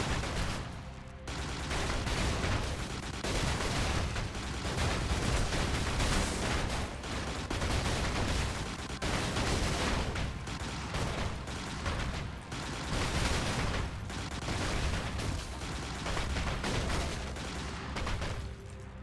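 Dense, relentless gunfire from the mech combat game Brigador, with rapid overlapping bursts and heavy shots blasting almost nonstop and loud throughout.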